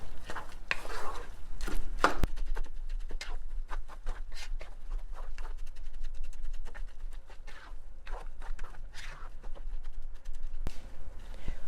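A spoon scrapes and knocks through Liberian dry rice in a pot on the stove, a steady run of close, sharp scraping taps and clatters with no talking.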